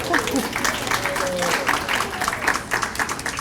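An audience at a high school senior night ceremony claps steadily, a moderate crowd applause with some voices mixed in beneath it.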